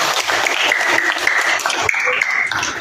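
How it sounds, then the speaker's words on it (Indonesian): Students in a classroom guidance session clap together, a close, lively patter of hands with a few faint voices mixed in. "Kasih tepuk tangannya"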